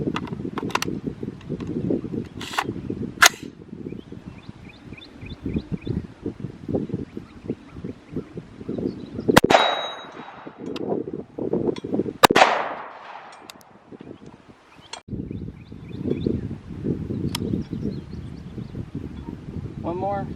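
Five 5.56 rifle rounds fired at a steel target and a Down Range Industries AR600 Level III+ budget body armor plate, including green tip rounds; sharp, loud outdoor reports with gaps between them, over wind noise and people talking.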